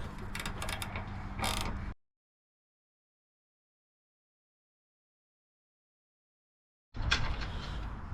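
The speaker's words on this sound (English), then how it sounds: "Then we need to loosen this bolt, but do not turn the nut off, just loosen it that it can tilt with a size 10." A size 10 wrench loosens a bolt on a 2025 Honda CBR650R during a phone-mount install, giving close ratcheting clicks in two short bursts separated by about five seconds of silence.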